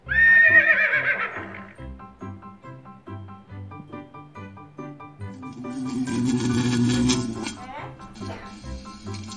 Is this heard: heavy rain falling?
no